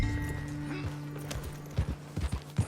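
Horse hooves clip-clop in a quick series of thuds near the end in the video game Red Dead Redemption 2, following a steady droning tone at the start.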